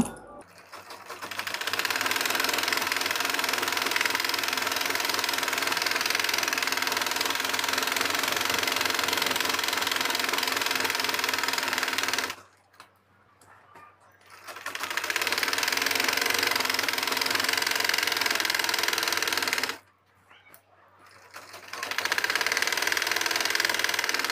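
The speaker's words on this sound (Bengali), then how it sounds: "রাবার লাগানোর জন্য প্রথমে আমার এই প্রথমে একটা সেলাই করে নিতে হবে একটা সেলাই করে দিব" A sewing machine runs steadily while stitching the waistband of a trouser pajama before elastic goes in, a loud, even mechanical whir in long stretches broken by two short pauses.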